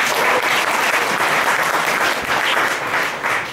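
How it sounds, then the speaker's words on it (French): An audience at a book launch in the Monument-National theatre breaks into dense, continuous applause, loud and sustained throughout with no voices over it. "Applaudissez-vous."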